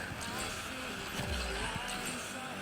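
Race car from the mobile racing game Asphalt Legends, the Vanda Electrics Dendrobium in a multiplayer race, with a steady engine drone and a brief skid or tire squeal midway, all at moderate level.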